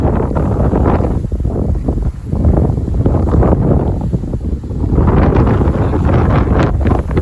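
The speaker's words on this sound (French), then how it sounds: "Il y a une petite bourrasque devant." A strong mistral gust on a hot summer day buffets the microphone with roaring, surging wind noise, loud and continuous with brief lulls, and no voices.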